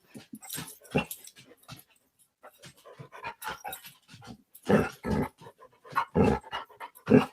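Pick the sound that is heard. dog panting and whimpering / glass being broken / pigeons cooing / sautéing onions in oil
dog panting and whimpering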